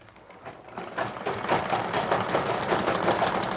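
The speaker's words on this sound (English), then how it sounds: "I'm going to stitch below that stitch." Sewing machine stitching a dress with double ruffle layers, running just below an existing zipper seam: a fairly quiet, continuous mechanical hum with soft rhythmic needle chatter that builds slightly and holds steady.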